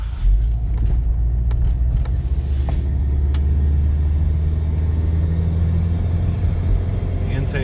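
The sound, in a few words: 2012 Subaru Forester XT engine intake sound while driving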